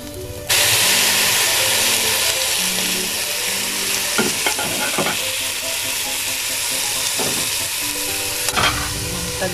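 Squid stir-fried with zucchini in a pan gives a loud, steady sizzle with bursts of spattering and scraping utensil strokes, near and continuous with no talk.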